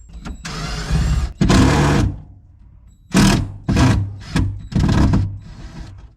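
Carpet being torn up from the floor of a 1981 Corvette interior: several loud, broadband ripping bursts of one to two seconds each, close up, separated by short pauses.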